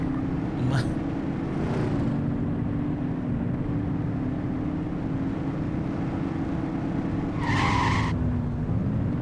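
A car in The Precinct video game revs with a steady engine drone, punctuated by two short bursts of tire squeal and skidding, one early and one louder near the end.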